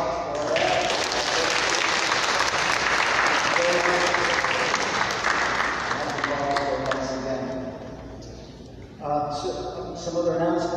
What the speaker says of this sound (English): A round of applause for all.